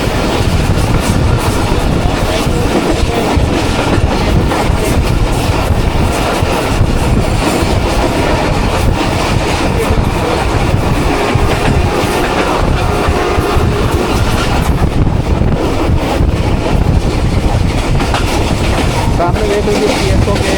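Millat Express passenger train travelling from Lalamusa toward Khanewal, heard from on board as a steady, loud rumble and rattle of wheels and carriages that fills the whole stretch, with a faint voice now and then.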